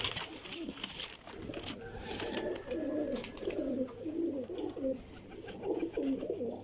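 Racing pigeons in a loft coo in repeated throaty phrases close by, over a steady background hiss, with no talk.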